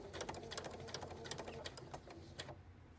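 Sewing machine stitching a 5/8-inch seam on fire fighter coat fabric, a steady run of rapid mechanical needle strikes with a brief slowdown near the end, close and alone.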